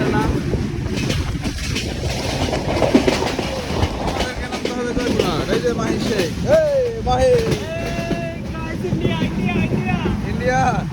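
A passenger train runs along the rails near Hili on the way to Joypurhat in Bangladesh, its rumble and rhythmic clatter loud and close from on board, with people talking over the noise.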